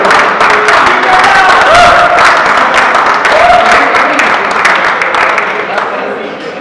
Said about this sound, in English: one round of applause for the CC guys